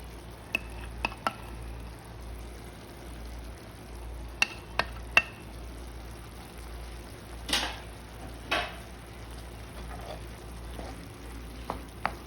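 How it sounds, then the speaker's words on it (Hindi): Pizza sauce and barbecue sauce stirred together in a bowl for a lasagna: quiet, scattered spoon clicks and soft scraping over a low hum, with no talking. "इसे अच्छे से मिक्स कर लेंगे"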